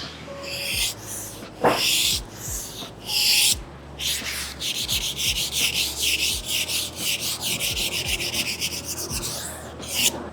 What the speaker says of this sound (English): I'm gonna sand the slot to make it smooth